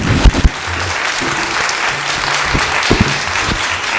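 Sustained applause from an audience in a city council chamber, dense and steady clapping with a few sharper claps close by, lasting the full stretch without talking.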